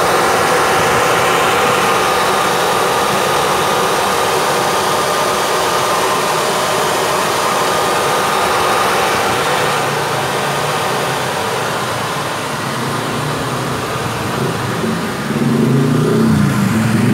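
Engine of a 2006 Toyota Innova with a 2.0L petrol engine runs steadily with an HHO carbon cleaner fitted, a loud, continuous close-up drone that holds even throughout with a slight shift near the end, no talking.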